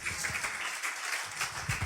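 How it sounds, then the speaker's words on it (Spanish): Steady applause from a Spanish-speaking church congregation at a Brooklyn service, a continuous patter of many hands clapping at moderate loudness for a couple of seconds. "Dale un fuerte aplauso porque Él es santo."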